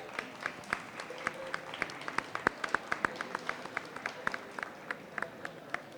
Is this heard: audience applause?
yes